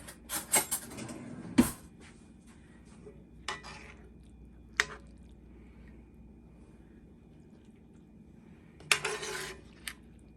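Spoon and metal kitchen utensils clink and clatter in a few sharp bursts against a sheet pan while fajita quesadillas with peppers and onions are assembled, with quiet gaps between the knocks and no talking.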